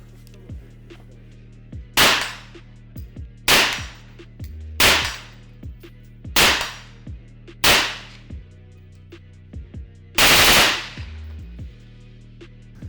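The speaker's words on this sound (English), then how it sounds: "let's go ahead and fire this beautiful weapon" AK-19 rifle chambered in 5.56 fired in six loud, sharp single shots spaced a second or two apart, each cracking hard and echoing briefly, with the last shot the heaviest.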